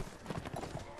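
Horse hooves clip-clop in a steady, rhythmic trot during a tourney in the video game Mount & Blade, moderately close with a faint murmur of background noise.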